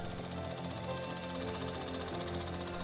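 A shoe factory machine rough trims the attached soles of Goodyear welted shoes, giving a loud, continuous rattling buzz with a steady, rapid pulse that holds unchanged throughout, with no talking.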